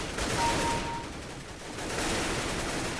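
AK rifle fire in Counter-Strike: Global Offensive comes as a dense, sustained wash of gunfire that dips briefly midway and then swells back, with no talking over it.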